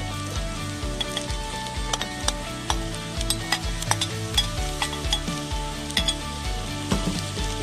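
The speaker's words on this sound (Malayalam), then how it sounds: "ഇനി ഒരു രണ്ട് മിനിറ്റ് നമുക്കൊന്ന് ഒന്ന് വഴറ്റിയെടുക്കാം" Bilimbi pieces sautéing in a pan make a steady sizzle broken by frequent sharp scrapes and clinks of a spoon against metal, with a low rhythmic thumping in the background.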